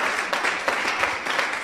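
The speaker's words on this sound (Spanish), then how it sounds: "Dale un aplauso a Jesucristo." Church congregation applauding in praise of Jesus during a Christian congress service, a dense, steady patter of many hands clapping throughout, fairly close and even in loudness with no talk over it.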